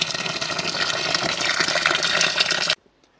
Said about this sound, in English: I'm just adding 1 liter of hot water into the sugar.